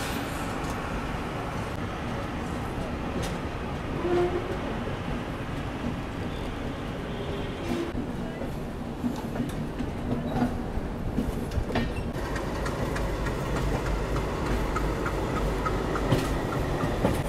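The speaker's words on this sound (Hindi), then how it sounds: "यहाँ सामने देखिए देश की सबसे पहले अमृत भारत एक्सप्रेस दरभंगा आनंद विहार अमृत भारत एक्सप्रेस।" The Amrit Bharat Express from Darbhanga to Anand Vihar rolling past, a loud continuous rumble of wheels and carriages with rhythmic clatter, heard close from a nearby train.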